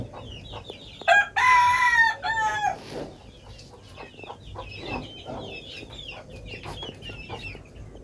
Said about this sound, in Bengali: আর নিচে এই মোরগটা শুধু আছে